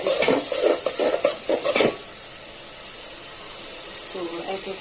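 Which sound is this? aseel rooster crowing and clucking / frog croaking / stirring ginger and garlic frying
stirring ginger and garlic frying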